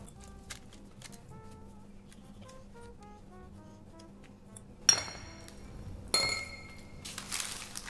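A baking pan for gluten-free eggless brownies is handled in a kitchen, with light tinkling clinks followed by two louder metallic clatters as it is set down and moved.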